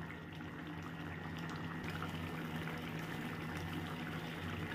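Fish curry of lote fish simmers in its own released juices over a high gas flame, giving a steady, soft bubbling and sizzling hiss close by, with no one speaking.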